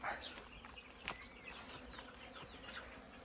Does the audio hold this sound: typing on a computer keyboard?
no